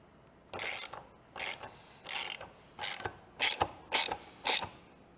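Brake caliper bolts on a 1967 Corvette getting Wilwood disc brakes are snugged down in a star pattern with a ratchet, seven short bursts of clicking separated by brief pauses, close up and fairly quiet.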